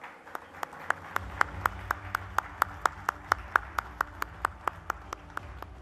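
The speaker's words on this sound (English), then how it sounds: "Can we give him a big round of applause, please?" Single person's hands clapping in a steady, even rhythm at a national news broadcasting conclave, about twenty distinct claps, fairly close and moderately quiet over a low background hum.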